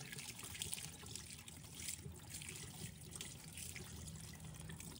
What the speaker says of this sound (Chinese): 全部削好后，再把它清洗一下，洗掉表面的泥土和杂质